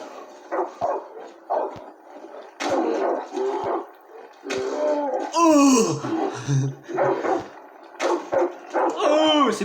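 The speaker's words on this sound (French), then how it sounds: "C'est juste un chien de la chasseuse qui est morte." Dog barks and yips in a video game, a hunter's dog, repeated in short bursts with whimper-like squeals, near and loud, mixed with an excited man's exclamations.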